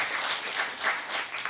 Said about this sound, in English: Claps for Madam Engineer.